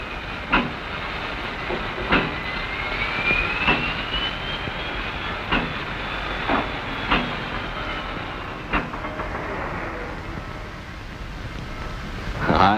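A Norfolk and Western time freight train rolls along the rails with a steady rumble and hiss, regular wheel clacks recurring over the joints, and a faint high squeal in the middle.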